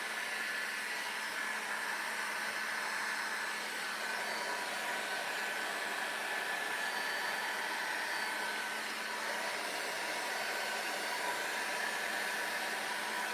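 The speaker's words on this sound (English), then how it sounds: "I have to dry it, otherwise it's not going to, my stencil's not gonna stick to anything wet." Close, loud and unbroken, the steady airy roar of a hair dryer blows over freshly painted furniture to dry the paint before stenciling, with no voices.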